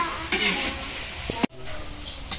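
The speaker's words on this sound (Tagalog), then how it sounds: "Pagpupula-pulahin ng bawang at sibuyas." Garlic and onions sauté in a pan, a steady sizzle with spoon stirring and clinks of the pan, faint voices in the background.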